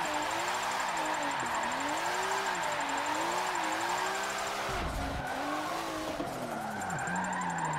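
A car drifts on stock tires in Forza 7, its engine droning and wavering in pitch as the throttle eases on and off, with continuous tire squeal and a brief dip in the noise near the end.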